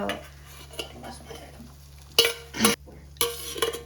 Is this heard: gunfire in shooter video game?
no